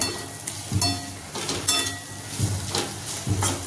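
Leftover roti pieces tossed with masala in a pan, a steady sizzle broken by repeated scraping stirs about every second, close and fairly loud with no talking.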